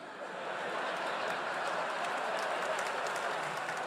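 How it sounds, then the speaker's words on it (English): Audience applause at a stand-up comedy show, a steady wash of many hands clapping that swells in after a brief quiet start and holds evenly at moderate loudness with no voices over it. "Slow applause, you know, all right."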